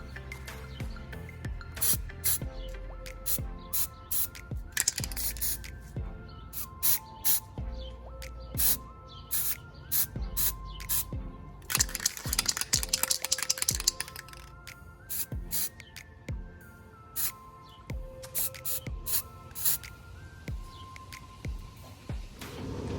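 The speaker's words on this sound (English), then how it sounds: "I'm going to spray from the underside here to make sure I get some of that model before I spray it with black." Spray paint is sprayed onto a Star Wars Legion miniature in many short, hissing bursts of varying length, close and fairly loud, over background clicks and handling noise.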